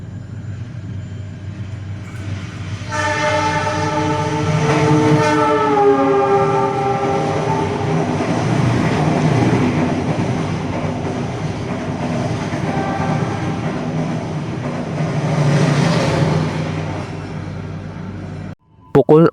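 The Kaligung train rumbles loudly nearby at Weleri station, Indonesia, while a long horn blast sounds, its tone sliding, followed by steady engine and wheel noise before cutting off.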